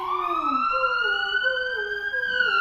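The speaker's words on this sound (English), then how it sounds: "An ambulance is heard" An emergency siren wails steadily and loudly from start to finish, its rising and falling tone sweeping continuously like an ambulance arriving, with no other sounds competing.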